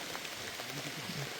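Rain falls in the jungle of Dudhwa National Park as a steady, soft, wide hiss with no talking.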